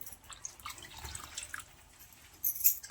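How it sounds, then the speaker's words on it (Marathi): Reserved spinach water being poured into a pot of spinach chicken pulao, soft splashing and dripping trickles at low volume, ending with a brief brighter splash. "आता यामध्ये ना पाणी घालून घेऊया जे सुरुवातीला पालकाचं पाणी काढलं होतं ना तेच घालून घेतले"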